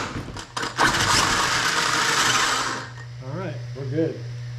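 A Traxxas X-Maxx RC truck's electric motor whirs loudly under throttle for a couple of seconds, then drops away as a voice speaks over a faint steady hum.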